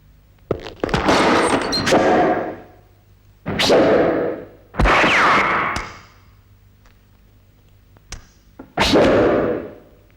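Four loud, sharp gunshots with ringing tails, spaced a second or two apart, stand out against near silence.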